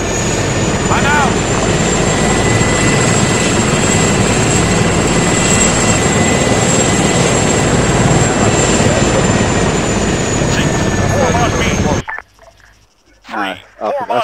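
Video-game military helicopter being taken out of a hangar, a loud constant engine and rotor drone that cuts off abruptly near the end, followed by players talking.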